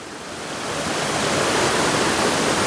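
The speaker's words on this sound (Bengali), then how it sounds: "জলগুলো কোনো একটা পাতে নামছে আর পুরো ঝর্নার মতোই লাগছে" Water rushing down over a river crossing in the Rongo River valley, pouring like a small waterfall: a steady, loud broadband roar that swells slightly in the first second and then holds constant, with no voices.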